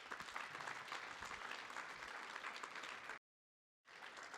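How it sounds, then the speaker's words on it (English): A theatre audience at a Millennium Stage dance performance claps for a visiting school group, with dense, even applause that cuts out abruptly near the end before briefly resuming. "how about a round of applause for the Kenmore group?"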